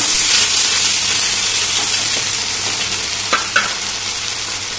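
Onions fried red in hot oil sizzle loudly and steadily after a splash of water is added, a dense continuous hiss with a few small pops and stirring scrapes.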